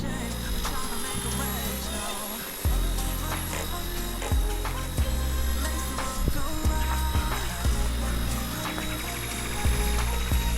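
A small motor whines steadily with a high buzzing pitch, punctuated by occasional clicks and knocks, from an RC ERA C138 1/33 scale Bell 206 toy helicopter hovering close by on slow speed.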